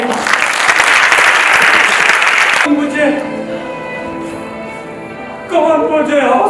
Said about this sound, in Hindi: आपकी तालियां होनी चाहिए।